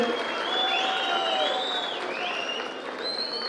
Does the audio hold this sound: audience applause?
yes